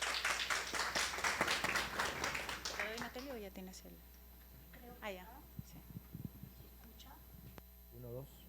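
Audience applause for speakers at a university conference on Peruvian audiovisual media, a loud burst of clapping for about three seconds that then dies away, leaving a quiet room with mains hum and a voice speaking.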